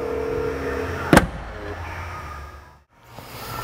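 The power trunk lid of a 2012 Rolls-Royce Phantom closes itself with a sharp thump near the start, then a low steady hum continues before briefly cutting out.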